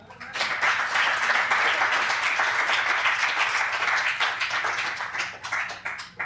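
An audience claps after a poetry recital at the San Francisco Public Library, steady dense applause rising quickly and holding throughout before thinning slightly at the end, with some voices murmuring underneath.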